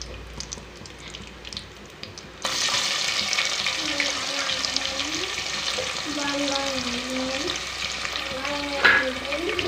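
Onions added to a pan for vegetable biryani fry with a steady loud sizzle that jumps up suddenly after a quiet start, with stirring scrapes and a brief clank near the end.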